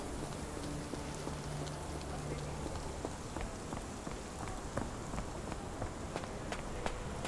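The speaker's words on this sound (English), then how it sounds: "This dreary rain is making a miserable day even worse." Steady rain falls across a dreary outdoor scene in the Sherlock Holmes The Awakened video game, with dense patter and scattered drips, joined by soft footstep-like taps throughout at a moderate, even level.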